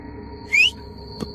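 A sharp rising whistle, like a signal in an aswang horror tale, sounds once and clear over a faint background hum, followed by a brief soft knock.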